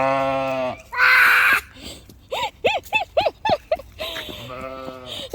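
Sheep bleating loudly nearby, a long wavering bleat, then a burst of short rapid bleats in a stuttering series, followed by another drawn-out cry, with a brief human shriek in between.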